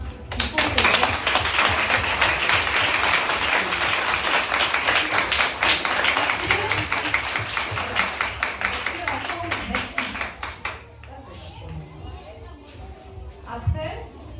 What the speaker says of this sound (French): On va applaudir les États-Unis d'Amérique